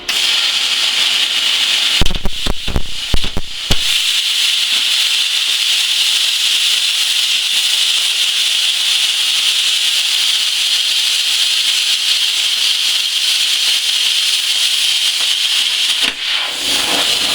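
A Cut 50 plasma cutter running at 45 amps slices through aluminum with a loud, continuous bright hiss and roar. Sharp crackling bursts come near the start and again at the end.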